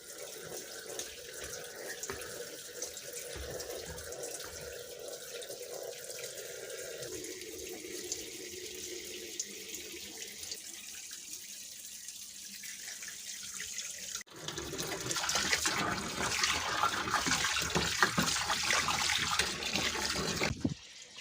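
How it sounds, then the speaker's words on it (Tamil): Water running steadily into a washing machine to soak clothes, a continuous faint rushing that shifts partway through, then turns louder and fuller for the last several seconds. "வாஷிங் மிஷினில் தண்ணி நிறச்சி இந்த உடுப்புகளையும் வந்து ஊற வைக்கிறேன்"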